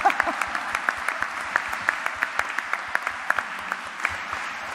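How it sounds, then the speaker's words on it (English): An audience at a start-up challenge finale breaks into a big round of applause, sparse individual claps standing out sharply in a steady rhythm over a soft background of clapping, with a bit of speech mixed in. "This is the moment for a big round of applause."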